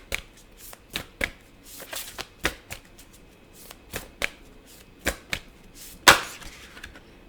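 A deck of tarot cards being shuffled: a dozen quick papery riffles and slaps in an irregular rhythm, close and fairly loud, with one sharper snap near the end and no voices.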